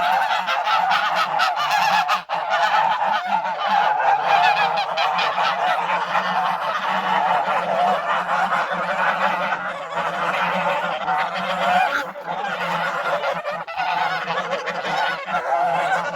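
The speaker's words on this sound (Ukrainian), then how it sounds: "Про горбоносих гусей." A flock of hump-nosed geese honks loudly and continuously in a farmyard, their calls overlapping in a dense, unbroken chorus with no voices over it.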